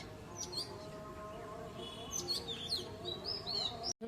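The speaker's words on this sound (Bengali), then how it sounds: "শুধু পাখিদের কিচিরমিচির আওয়াজ" Small birds chirp and tweet in short bright bursts, some overlapping, over a quiet steady background; moderately close.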